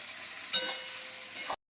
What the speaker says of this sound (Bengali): পেঁয়াজগুলো ভালো করে ভাজি।